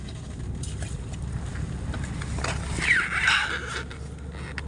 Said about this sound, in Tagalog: Nililipad doon ang hangin. Malakas ang hangin.